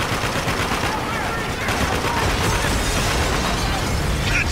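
A window blows out in the video game Spec Ops: The Line, a dense continuous roar of explosion and sustained gunfire filling the whole stretch at high loudness.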